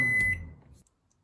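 A Panasonic microwave oven being started gives a single short high-pitched electronic beep, followed by a brief low hum that fades quickly into silence.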